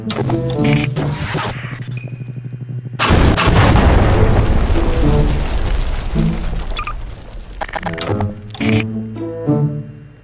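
A bomb explodes in Garry's Mod gameplay with a loud, sustained boom and rumbling blast lasting several seconds, framed by clattering, tonal game sounds before and after.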